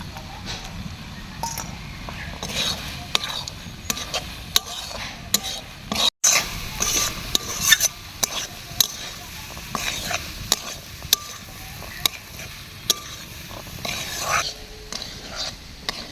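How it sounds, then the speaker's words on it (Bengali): Peas and potatoes sauté with masala and green chilli in mutton fat for ghugni, a dense close sizzle under constant scraping and stirring, with occasional clinks of the spoon against the pan. "মশলার সাথে মটর আলু ভালো করে কষে নিয়েছি"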